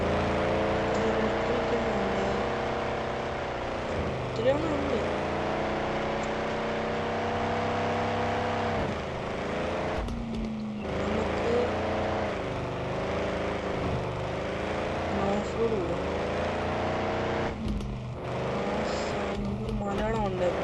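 Cars in an online driving video game rev and cruise with smooth rising and falling engine tones and occasional shifts, while a person talks over the game sound.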